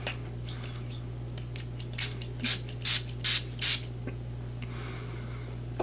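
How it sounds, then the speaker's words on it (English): Hydrating rose-scented face mist spritzed from a spray bottle: a quick run of about five short hissing puffs close by, over a steady low hum, with faint handling rustles before and after. "So here is the face mist itself. It's supposed to be hydrating, so I'm just gonna spritz it on."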